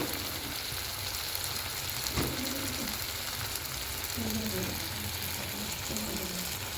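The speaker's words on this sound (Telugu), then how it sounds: "కొంచెం అల్లం వెల్లుల్లిపాయ వేసుకొని తగినంత కొంచెం బాగా రోస్ట్ అవ్వాలండి" Ginger garlic paste frying in a pan for a brinjal curry, a steady hiss and sizzle running throughout with faint stirring scrapes.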